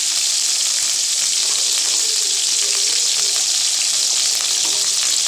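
Tomatoes, fennel and coconut pieces sauté in a pan for an egg masala curry, giving a loud, dense, continuous sizzle with faint stirring underneath and no speech.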